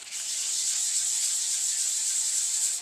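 Fine 1200-grit sandpaper rubs across a Harley 883 Iron belly pan in a continuous, close, smooth hissing stroke with no break, and no voices.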